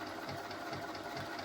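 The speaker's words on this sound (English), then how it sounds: "I'm going to sew with a 1/4 inch seam allowance, and I'm going to attach a square to the end of that long strip" A sewing machine runs briefly while stitching quilt pieces with a quarter-inch seam, a quiet, steady mechanical whir with a faint rhythmic chatter.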